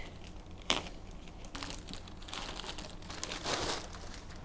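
A SenseCAP device package from a DHL shipment is unboxed, its plastic wrapping crinkling and rustling quietly in several bursts, with a sharper tear near the start and close, soft handling noise throughout.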